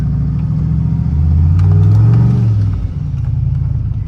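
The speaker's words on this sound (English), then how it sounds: "So we're inside the truck with the cutout open. And it's loud." A truck's exhaust roars loud and close with its exhaust cutout open, heard from inside the cab, a deep rumbling drone that swells in the middle and then settles back to a steady growl.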